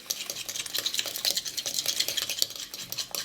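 A spoon stirring an egg yolk mixture with lemon juice for hummus deviled eggs, giving a quick run of soft scraping and tapping strokes in a bowl, close and fairly quiet.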